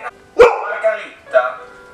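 A dog gives a few sharp barks close by, one loud bark followed by two softer ones spaced under a second apart, with quiet between them.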